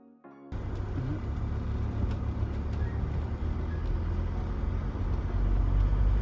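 A campervan rolls along a coastal road in Wales near Caernarfon Castle. After a brief quiet start, a continuous road and engine rumble sets in and slowly grows louder, with no talking.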